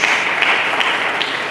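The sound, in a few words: applause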